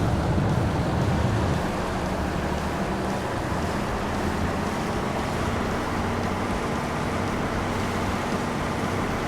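A mini boat speeds across the water in a video game, giving a continuous dense rushing wash of engine and spray that holds loud and even throughout, with no talk.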